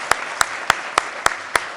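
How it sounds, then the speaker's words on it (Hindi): An audience at a CNN-News18 event with Kangana Ranaut claps in unison, six sharp, evenly spaced claps about a third of a second apart, loud over a low murmur. "सारे लोग जानना चाहते हैं, ताली बजा के बताइए जानना चाहते हैं या नहीं जानना चाहते?"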